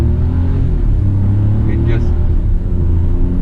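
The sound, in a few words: Hyundai i20 N-Line engine accelerating in S mode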